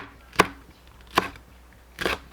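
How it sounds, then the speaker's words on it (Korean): Half an onion being cut with a knife on a board, three separate crisp chops spaced out, close and fairly quiet with no talking. "양파 2분의 1개를 썰어 준비합니다."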